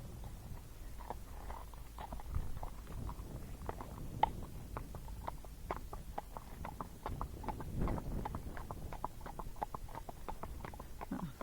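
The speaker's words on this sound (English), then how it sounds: "See how easy it is to get this horse in gait?" A naturally gaited horse walks with steady, soft hoof clip-clops in an even rhythm, fairly quiet and continuous, with no voices.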